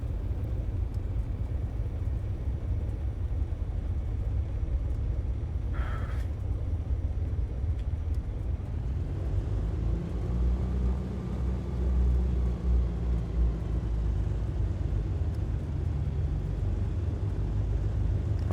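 A Bonanza G36 engine idling at 1000 rpm in the X-Plane flight simulator, a steady low rumbling drone that holds throughout, with a faint tonal hum rising partway through.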